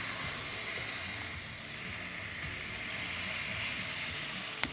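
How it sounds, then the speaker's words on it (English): Impossible Burger patties sizzle and hiss steadily on a Ninja Foodi XL grill, a close, continuous frying sound with no talking. "we got some good sizzle on there"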